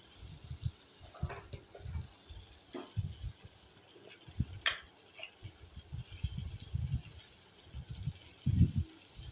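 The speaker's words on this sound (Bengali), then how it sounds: "এই দেখো নুন দিয়ে আমি ভালোভাবে বেগুনটা ভেজে নিচ্ছি।" Small pieces of eggplant fry in shallow oil with a little salt, giving a soft, uneven crackle with scattered low sputters and stirring bumps close by, and no talking.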